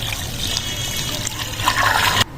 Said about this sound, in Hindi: जितनी आपकी फैमिली है उतना पानी जो है ना आपने इसमें शामिल करना है